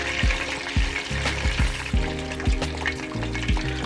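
Breaded chicken cutlets sizzle and crackle steadily in hot oil in a pan, a dense continuous fry with repeated low knocks and thumps as the pieces are moved, no voices.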